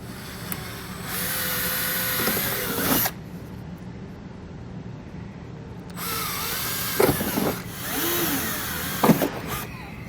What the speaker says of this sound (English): Small drill bit, we're going to drill right in the center.